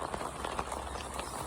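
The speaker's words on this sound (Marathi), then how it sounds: "आता पण पाऊस चालू आहे." Steady rain falling on a street after several days of downpour, a continuous soft hiss with faint patters throughout, close and even, with no voices.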